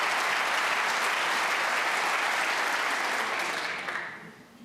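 A snooker crowd applauds during a maximum break attempt, a dense, sustained burst of clapping from many hands that holds steady, then fades away near the end.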